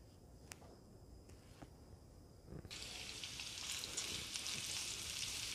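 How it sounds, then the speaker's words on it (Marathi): Chopped onion frying in a spoonful of oil on a high gas flame for aloo matar kofta curry, quiet at first with a few clicks, then swelling into a steady, bright sizzle. "कांदा मी मोठा गॅसवरच परतून घेणार आहे."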